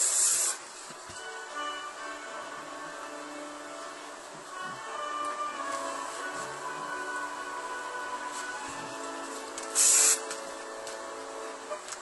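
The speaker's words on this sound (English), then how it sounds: "making sure I spray the back, the very nape of my hair" Hairspray misted onto the back of the head at the nape, a steady close hiss running for several seconds with a short sharper burst near the end.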